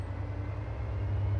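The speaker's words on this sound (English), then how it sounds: "I'm going to rev the engine and take power." A DB BR 365 diesel shunting locomotive in Train Sim World 3 revs its engine as it takes power, a steady low rumble with a rising hum, heard alone and fairly quiet.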